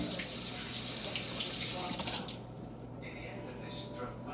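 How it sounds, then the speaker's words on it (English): Hands rinsed under a running kitchen tap, steady water splashing that thins out halfway through, recorded at low level. "Let me rinse my hands."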